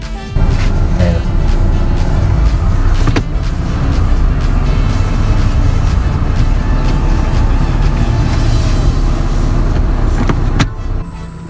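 Abnormal noise from the suspension spring and cracked triangular-arm bushing of a fourth-generation Subaru Forester: a loud, steady rumble runs throughout, with a couple of dull knocks near the start and end.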